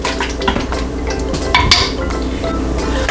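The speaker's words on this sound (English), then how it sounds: "And now I'm going to put the lid on it." An Instant Pot lid handled and set in place, close metallic clinks and scrapes with a brief ring partway through, steady kitchen background and no talking.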